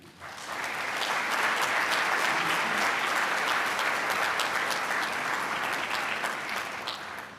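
An audience at a Blue Ridge Community College spring 2023 commencement ceremony applauds as a speaker is welcomed to the podium, a loud, sustained wash of clapping that rises quickly, holds steady for several seconds, then tapers off.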